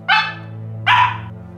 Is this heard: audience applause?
no